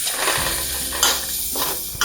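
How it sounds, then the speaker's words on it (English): Masala is stirred in a pan over reduced heat for a pickled jackfruit stir-fry. A steady sizzle runs under repeated scraping and clinking strokes from the utensil, close and continuous, with no talking. "We're going to stir it around"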